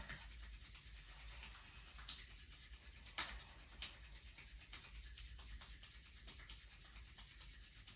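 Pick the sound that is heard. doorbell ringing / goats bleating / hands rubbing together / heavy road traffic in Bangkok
hands rubbing together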